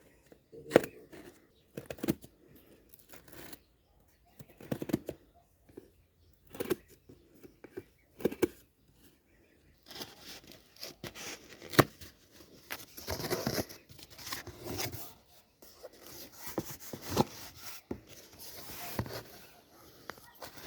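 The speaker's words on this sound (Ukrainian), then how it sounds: "Зараз відкриємо скоби." Staples being pried open on a small parcel, a series of scattered close scraping, crinkling and tearing sounds of paper packaging with brief quiet gaps between them.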